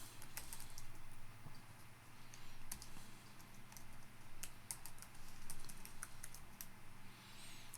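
Someone types a password on a computer keyboard, producing a quiet, close, irregular patter of key clicks with brief pauses, heard alone without any talking.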